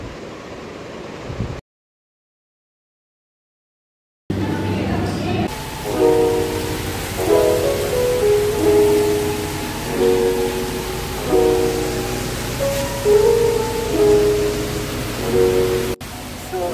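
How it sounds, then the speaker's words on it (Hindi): Heavy rain pours outside in a steady, loud, broadband roar after a short silence. A person talks throughout over the constant downpour. "अभी बहुत तेज़ बारिश होने लगी है"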